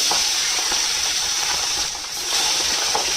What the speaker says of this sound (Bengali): এবারে এই ট্যাংরা মাছগুলোকে ভাজা করে নেব